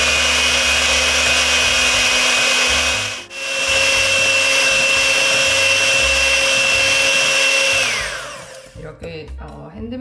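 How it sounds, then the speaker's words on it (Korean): An electric hand mixer whips eggs and sugar in a warmed bowl, a loud steady high-pitched whir running continuously, briefly cutting out once before resuming, then spinning down and stopping near the end. "이제 핸드믹서로 휘핑하는 과정이 지겹게 느껴질 수도 있는데요"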